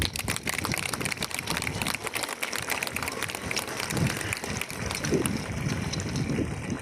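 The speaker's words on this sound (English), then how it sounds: "let us give him a big applause. Kindly clap hands" A crowd at a higher secondary school's annual sports day applauds to welcome the chief guest: a thick, continuous wash of many hands clapping that stays level and fills the whole stretch.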